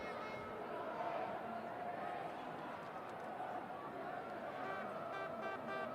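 A large football crowd at St James's Park for a Newcastle United versus Sunderland WSL 2 match roars in a steady, broad wash, with a commentator speaking over it.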